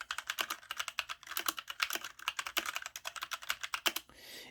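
Rapid typing on a regular computer keyboard, a close, busy stream of crisp key clicks in uneven bursts, ending with a brief softer rustle.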